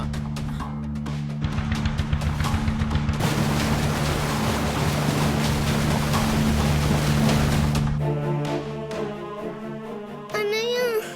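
A motorboat runs steadily on open water, its engine drone loud and continuous throughout, with splashing and wash, and voices calling out near the end.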